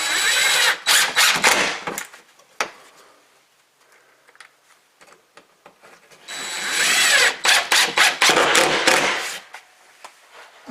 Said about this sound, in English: And then you're going to screw that one in with a couple screws too.